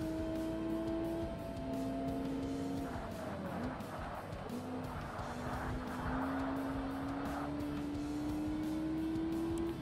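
A race car engine on the track in Forza Motorsport, a steady close drone whose pitch drops under braking, then climbs again as the car accelerates, with tire noise running underneath.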